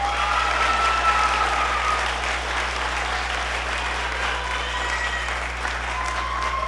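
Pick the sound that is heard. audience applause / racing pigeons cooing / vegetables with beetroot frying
audience applause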